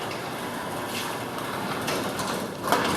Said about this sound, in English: But the door opener still works.